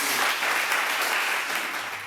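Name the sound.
applause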